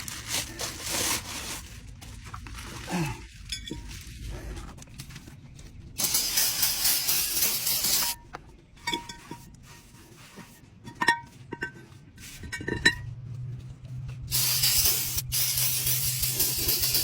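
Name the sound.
brake cleaner sprayed on greasy brake parts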